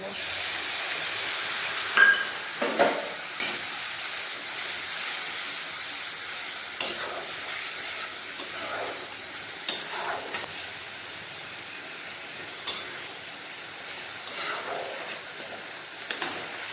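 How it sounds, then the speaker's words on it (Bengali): Steady sizzling of a spice paste frying in a pan with onion, ginger and garlic, with scraping strokes of a spoon stirring it every second or two, close and fairly loud. "মশলাটা ভালোভাবে কষানো হয়ে গেছে"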